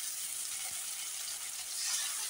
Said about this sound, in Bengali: প্রথমে এই তো পেটিগুলো ভাজবো